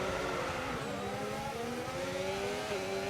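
A race car engine at the start of a race, a steady, droning rev held at fairly low volume with slowly rising pitch and no voices.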